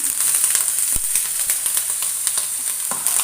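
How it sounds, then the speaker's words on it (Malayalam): Crushed ginger and garlic with finely chopped green chillies fry in a hot pan, giving a steady, close sizzle with crackling pops throughout and no talking. "പാനിലേക്ക് നമുക്ക് 1 സ്പൂണ് ഇഞ്ചി വെളുത്തുള്ളി ചതച്ചതിട്ട് കൊടുക്കുന്നുണ്ട്"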